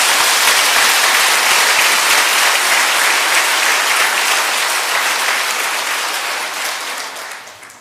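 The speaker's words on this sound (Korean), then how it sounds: "우리 격려의 박수 해드리겠습니다." A church congregation applauds in dense, sustained clapping that fills the room at full volume, then gradually thins and fades toward the end.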